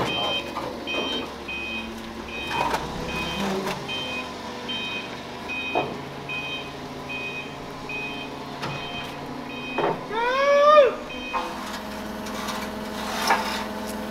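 A truck reverses, its backup alarm sounding repeated evenly spaced beeps over engine rumble, knocks and scraping, with people talking nearby in between.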